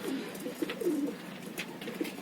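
Pigeons cooing softly, several low, rounded coos repeating at irregular intervals, fairly faint against a steady background.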